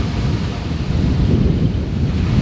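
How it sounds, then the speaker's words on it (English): Heavy wind buffets the microphone at a lake beach, with waves crashing along the shore in a steady, dense roar that stays loud and unbroken throughout. "we are at the lake, so you're going to hear waves crashing. The wind's pretty heavy"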